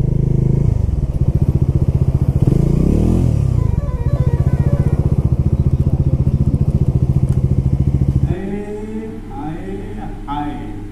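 A motorcycle runs along a smooth road on an evening ride from Bankura to Puri, its engine a steady rapid throb up close with wind rush. Near the end the engine drops away and a voice can be heard.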